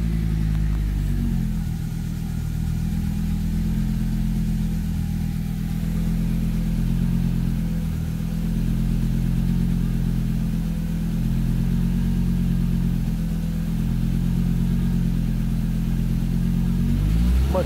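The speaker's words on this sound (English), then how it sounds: "this is how it works and sounds cold" An Audi 200 engine idling cold after sitting a full day following a Liqui Moly engine flush, running as a steady low rumble with a fairly even, unbroken note throughout.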